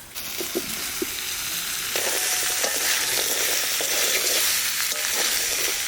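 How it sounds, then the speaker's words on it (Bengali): Cauliflower, potatoes and green peas stir-fried in a spice paste of ground cashew and poppy seed give a steady close sizzle. Scraping stir strokes get louder and denser partway through. "মশলার সাথে ফুলকপি আলু মটরশুঁটিটা কষি নিলাম একটু"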